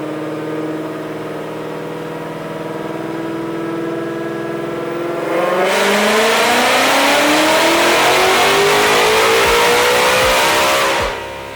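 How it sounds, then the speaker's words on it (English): A 2020 Shelby GT500 supercharged V8 on a dyno with an Apex supercharger upgrade holds a steady rumble, then revs hard and climbs in pitch with a supercharger whine, loud and close, before cutting off. "I'm out on the dyno with a 2020 Shelby GT500 strapped down"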